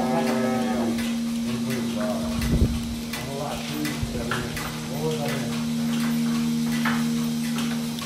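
Dairy cows in a corral moo repeatedly, deep drawn-out lows from several animals close by, with people talking now and then and clanks in the background.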